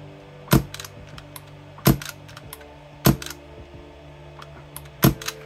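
Four sharp, muffled pops ring out at steady intervals from a suppressed Tokyo Marui MK23 airsoft pistol, each followed by faint mechanical clicks and rattles, with quiet pauses between shots.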